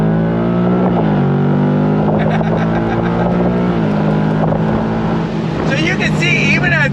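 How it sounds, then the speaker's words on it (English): Loud, deep V8 engine note of a 2025 Ford Mustang GT/CS accelerating hard from inside the car, rising in pitch through gear changes, with people talking over it. "None of that V8 sound is artificial."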